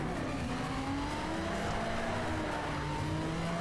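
A car in the racing game Need for Speed Shift drifts, its engine whining steadily with rising and falling pitch, joined by tire squeal across the whole stretch.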